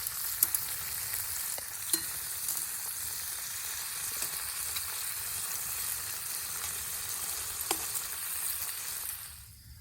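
Bacon frying in a lightweight Banks Fry-Bake camping pan outdoors, a steady soft sizzle with occasional small pops that carries on evenly and fades out at the very end, with no voices.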